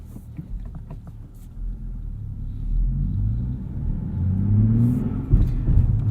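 A 2023 Nissan Z engine under way, a steady low rumble rising in pitch through acceleration with gear changes, close and continuous with road noise and no talk.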